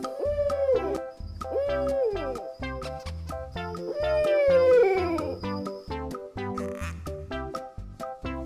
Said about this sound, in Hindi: आउल, आउल मतलब उल्लू।